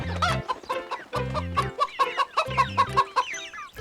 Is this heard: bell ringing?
no